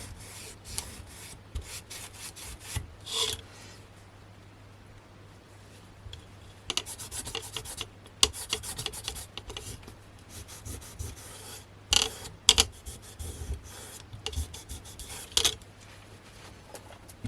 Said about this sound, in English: all you do is rub over the top